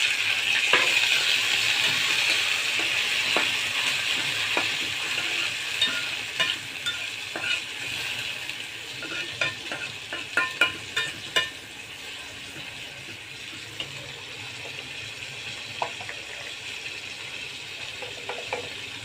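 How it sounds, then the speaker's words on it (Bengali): Onion, chili, turmeric, ginger and garlic frying in a pan with water being added, giving a steady loud sizzle with scraping stir clicks that cluster midway and then ease off. "এখন আমি পানি অ্যাড করে দেব"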